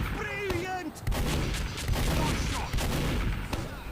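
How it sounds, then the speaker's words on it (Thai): Loud bursts of gunfire and explosions from the mobile game Team Fortress 2 pound continuously, including a grenade blast, with a brief voice and whistling tones early on. "เจอระเบิดอัดหน้า"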